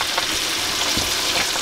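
Mixed vegetables, including onion, green onion, cabbage and beans, frying in a pan village-style, a loud close sizzle with a brief stirring scrape near the middle and no voices.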